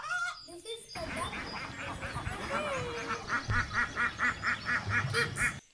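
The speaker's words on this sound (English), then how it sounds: "this is the duck" A duck quacks in a rapid run of nasal, evenly spaced calls, loud and close, after a short spoken introduction.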